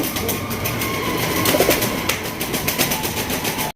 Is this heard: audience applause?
no